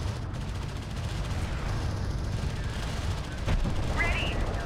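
Cannon fire from the real-time strategy game Homeworld: Deserts of Kharak rumbles through a steady low battle din, with a sharp blast near the end and a brief rising whine after it.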